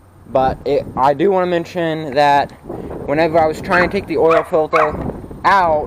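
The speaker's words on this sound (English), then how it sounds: "excuse my dog" A pet dog barks in several short bursts while someone talks over it, the barks mixed in with his speech throughout.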